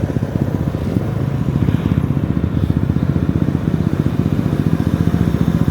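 A motorcycle engine runs loudly nearby on a city street in Cagayan de Oro on New Year's Eve, its steady rapid putter rising and falling as it passes.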